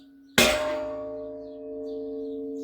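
A single sharp metallic clang from a hammer strike, followed by a sustained ringing tone that slowly fades.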